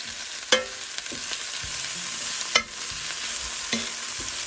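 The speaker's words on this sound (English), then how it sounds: "After the garlic has fried a little, add the mint leaves and mix." Garlic and mint leaves sizzle in a pan for aloo bath, a continuous close hiss broken by three sharp spoon scrapes and knocks as the mixture is stirred, with no talking.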